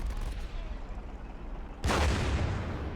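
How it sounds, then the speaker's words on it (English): Anti-armor gunfire pounds a unit in the strategy game Warfare Legacy, a sudden loud burst of heavy firing and booms that breaks in after quieter battlefield noise and carries on densely to the end. "So this thing immediately starts getting pounded by anti-armor"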